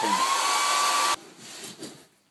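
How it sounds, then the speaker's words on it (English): A hair dryer blows loudly and steadily on wet watercolour paint, then cuts off abruptly, leaving quieter room noise and faint handling sounds. "Got to be careful with a hairdryer that you don't sort of push the paint around too much"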